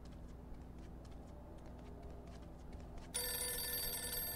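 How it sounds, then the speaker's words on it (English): A telephone rings inside the Mafia II video game, its bright ring cutting in abruptly near the end over a steady low engine-like hum and faint ticking. "Okay, phone ringing."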